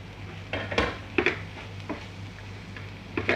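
Metal lid and utensil clinks sound from a covered pan of egg puff filling as it is opened, a few separate clanks and taps spread irregularly over a quiet kitchen hum.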